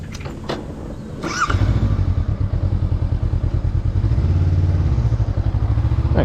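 A 2023 Honda CB500F motorcycle starts up after a couple of knocks and thumps, then runs loudly up close with a pulsing, throbbing engine note that rises slightly as it pulls away.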